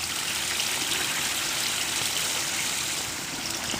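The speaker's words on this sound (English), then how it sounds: "Let's talk about this little waterfall I guess you just put in over here." Water flowing steadily through a small garden waterfall fountain, a disappearing-fountain design, making a continuous soft splashing and trickling hiss with no pauses.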